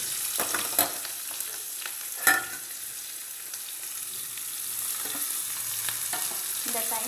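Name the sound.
onions and green chilli sautéing in a pan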